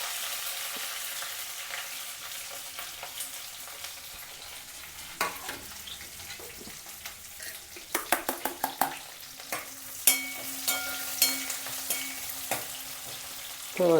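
Onion and curry leaves hit hot oil for tempering in a pan, giving a continuous crackling sizzle, with a run of sharp spoon-against-pan scrapes and clinks as they are stirred, close and fairly loud.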